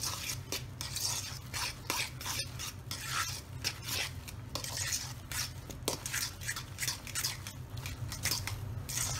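Spiced potato croquette mixture with curry powder, chopped mint and diced onion being mixed in a bowl, giving soft repeated scraping and squishing strokes at close range over a steady low hum, with no talking.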